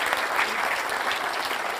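Steady applause from an awards ceremony audience, dense continuous clapping at even loudness throughout, with no voices standing out.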